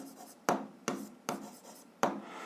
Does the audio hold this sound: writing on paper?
yes